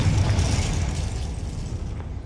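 Confringo fire spell explosion in the video game Hogwarts Legacy, a loud deep rumbling blast that slowly fades over two seconds.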